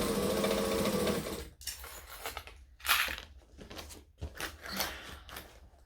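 A domestic sewing machine runs a 3/8-inch joining seam at a 2.5 stitch length, whirring steadily at first, then stopping and restarting in short bursts with small fabric handling noises between them.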